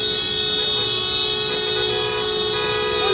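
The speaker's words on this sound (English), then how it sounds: "What's up with all the beeping though?" Car horns honking at a street protest, sustained overlapping tones blaring continuously from nearby traffic over a low road rumble, with no talk.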